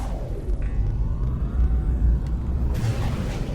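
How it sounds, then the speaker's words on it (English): A low, steady rumble of an approaching storm on a planet in No Man's Sky, a deep continuous drone with a faint tone sweeping above it. "Weather warning. Incoming storm."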